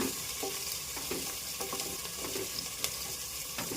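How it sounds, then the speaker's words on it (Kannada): Sliced onion and fenugreek leaves fry in oil in a pan for mutton curry, giving a steady close sizzle with soft stirring scrapes and small clinks mixed in. "ಈರುಳ್ಳಿ ಒಂಚೂರು ಫ್ರೈ ಮಾಡ್ಕೊಳ್ಳೋಣ. ಅದಕ್ಕೆ ಚೂರು ಮೆಂತ್ಯ ಸೊಪ್ಪು ಚೆನ್ನಾಗಿ ಫ್ರೈ ಮಾಡ್ಕೊಳ್ಳೋಣ."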